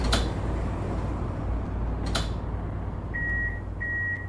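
In a Vienna tram simulator game, two short electronic tram door warning beeps sound in sequence over a steady low engine hum, after a couple of faint clunks.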